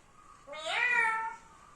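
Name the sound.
parrot imitating a cat's meow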